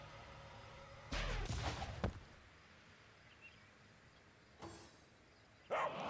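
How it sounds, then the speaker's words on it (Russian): In the video game Divinity: Original Sin, a dog gives a few short, separate barks, one close burst followed by fainter ones, over a quiet background with no talking. "Ой, там еще собака была."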